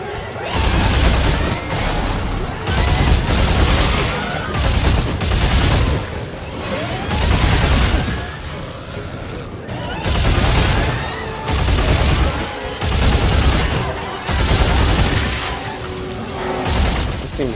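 Repeated loud bursts of gunfire aimed at necromorphs in the Dead Space 3 video game come in regular waves, with short gaps between heavy volleys.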